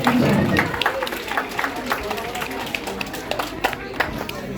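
Audience at a ceremony applauding a champion's mother, a loud burst of clapping at the start that thins into scattered claps, with a voice speaking over it.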